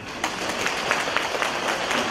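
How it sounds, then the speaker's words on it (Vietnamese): A church congregation claps in response to news of a child's recovery, a brief burst of rhythmic, fairly even clapping at moderate distance with no speech. "Vỗ tay."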